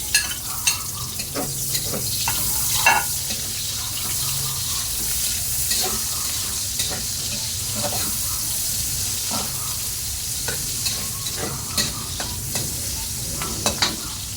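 Onions frying in oil and being stirred in a pan while cooking adobo, a continuous close sizzle broken by repeated scrapes and clacks of the spatula, no talking.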